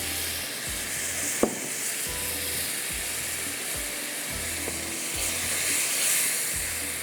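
Ground tomatoes fry in masala for qeema in a hot pan, giving a steady close sizzle and hiss with occasional stirring scrapes and a sharp clink, and no talking.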